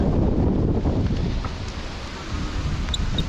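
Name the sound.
wind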